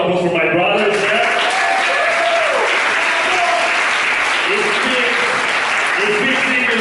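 A crowd at a comedy show breaks into loud, sustained applause, dense clapping filling the room while a voice speaks over it.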